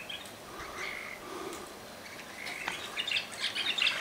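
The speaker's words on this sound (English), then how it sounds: "Oh, here are the birds now." Small birds chirp and tweet around an outdoor feeder, faint and scattered at first, then busier high calls near the end, with quiet background ambience.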